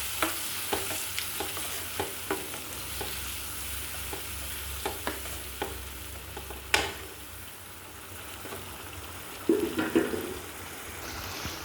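Cauliflower curry with added hot water is stirred in a pot, giving a series of evenly spaced spoon scrapes and clinks over a faint bubbling simmer, with a louder knock and a splashy burst near the end.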